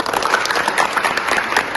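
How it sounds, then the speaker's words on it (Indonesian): Students applauding in a classroom science lesson, a busy, fairly loud patter of many hands clapping continuously and evenly from start to finish. "Tepuk tangannya dulu"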